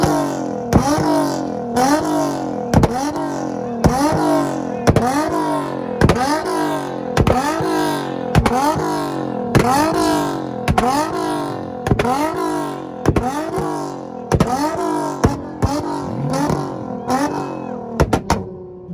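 A Z-car on a two-step launch limiter at an import rev battle in Tulsa, Oklahoma, the engine bouncing off the limiter in a loud, rapid, rhythmic stutter of revs that holds steady for many seconds, close and harsh.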